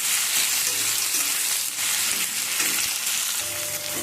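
Chopped tomatoes and green chillies fry with spices in a pan, a dense, steady sizzle close by with faint stirring scrapes throughout.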